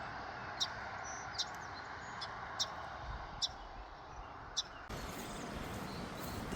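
A small, plump brown bird chirping in the open air at sunrise in Maine, several short, sharp chirps repeated at irregular intervals over a steady outdoor background hiss, moderately near.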